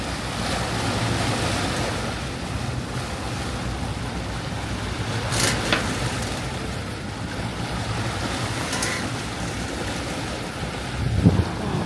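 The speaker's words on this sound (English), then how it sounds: "So the wind is right on our nose right now, and the waves are just all confused." Strong headwind and rough, confused waves at sea aboard a sailboat, a steady roar of wind buffeting the microphone over churning water, with a few louder gusts and splashes.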